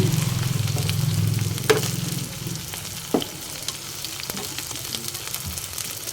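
Shrimp okoy fritter frying in hot oil, giving a steady close sizzle that is louder at first and then thins into softer crackling with a few sharp pops.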